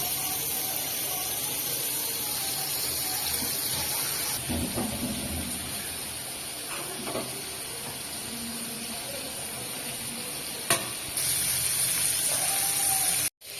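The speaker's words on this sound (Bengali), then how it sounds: "এখন বন্ধুরা, আমি মাছটা ভাইজে নিচ্ছি। এই যে আমেরিকান পেট মোটা মাছ ভাইজে নিচ্ছি।" An American big-belly fish frying in a pan in a village kitchen, with a loud, steady sizzling hiss running throughout and a brief clank near the end.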